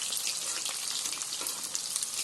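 Chicken pieces frying in hot oil for chilli chicken, a steady bright crackling sizzle close by with no pauses, fairly quiet and with no voices over it.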